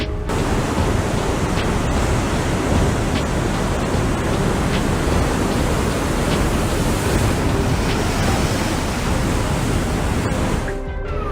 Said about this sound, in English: crashing waves